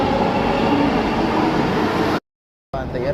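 An electric metro train in Bengaluru rushes past at speed, a loud, dense rumble of wheels and rail noise that cuts out abruptly before resuming.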